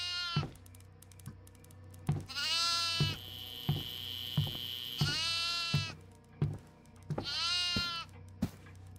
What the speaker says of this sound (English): Yeah, I just found the goat.